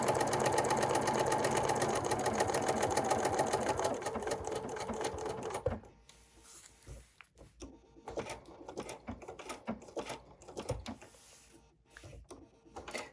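A sewing machine stitches applique on a bunny pattern, running in a fast continuous whirring chatter for about six seconds, then breaking into short stop-start bursts with clicks and brief pauses.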